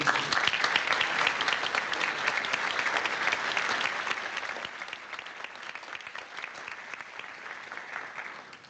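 An audience at an art show and graduation event applauds the trustees, steady full clapping from many hands that holds loud at first and eases slightly toward the end, with no talk over it.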